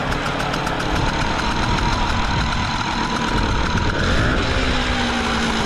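A small Hangkai two-stroke outboard motor runs at a steady idle, a loud, close, buzzy drone with a rapid even rattle throughout.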